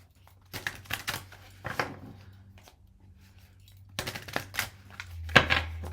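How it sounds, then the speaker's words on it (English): An oracle card deck is shuffled in a few short bursts of papery riffling, separated by quiet pauses, close and fairly soft. "So let's shuffle these up, Mystic Kingdoms Oracle deck,"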